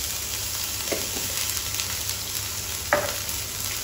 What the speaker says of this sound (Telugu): కొద్దిగా అది కూడా కొంచెం ఫ్రై అవ్వని.